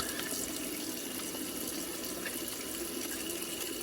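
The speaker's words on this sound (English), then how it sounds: "I like to turn it on not too hot, just not too hot. Give my hands a good rinse." Tap water runs steadily into a sink as hands are rinsed under a moderate-temperature stream, a constant close splashing hiss with no speech.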